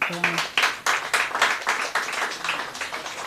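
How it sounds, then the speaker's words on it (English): Workshop participants clap in a loose, uneven patter of individual claps, moderately close, with a voice briefly audible at the start. "So give yourselves a round of applause for that."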